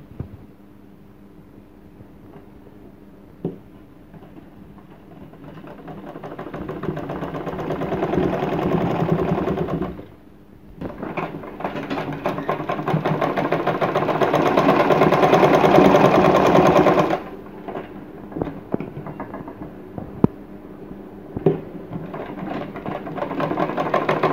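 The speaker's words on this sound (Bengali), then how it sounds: "এইভাবে দুটোই সেলাই করে নেবেন।" An electric sewing machine stitches a kameez in a steady whirring run that rises and speeds up, pauses briefly, then continues close by without talk.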